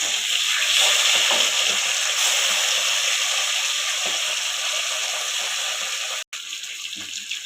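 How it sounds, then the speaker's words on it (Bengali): Fish pieces, just turned over in a pan of hot oil, fry with a loud, continuous close-up sizzle and hiss that cuts out for a moment near the end. "মাছগুলো একদিকটা ভাজা হয়ে গেছে, আমি আবার দিকটা উল্টে দিলাম"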